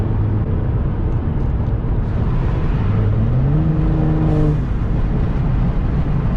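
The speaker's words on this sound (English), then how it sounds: "the blow valve was literally like on that side of the engine" A BMW F10 535i with a Turbosmart blow-off valve drives past loud and close, its engine whirring under steady road roar, with a rising rev and a hissing valve release.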